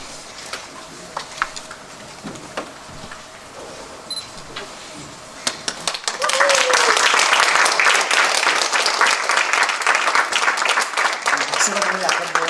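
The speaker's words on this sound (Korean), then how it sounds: "큰 위로의 박수, 축하의 박수를 해주시기를 바랍니다" A congregation at a church ordination service breaks into applause after a few scattered claps and shuffles, building into dense, sustained clapping that fills the room.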